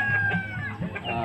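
Chickens clucking and crowing at close range, kept as backyard fowl being treated for coryza; overlapping calls and short clucks continue steadily with no talk.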